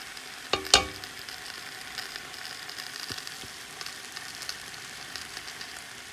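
A chicken noodle mixture with green onion cooks in a pan with a faint, steady sizzle, broken early by a couple of sharp clinks from stirring.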